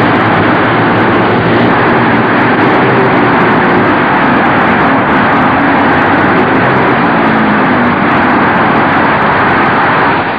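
Speedway motorcycles race on a cinder track at the 1949 World Championship Final, a dense, steady engine roar with a muffled old-recording quality that holds loud throughout.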